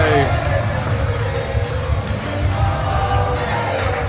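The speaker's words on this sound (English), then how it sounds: "The fans cheering for David Francisco." Fans at a wrestling match cheer and shout in a loud, continuous crowd roar, with talking over the noise.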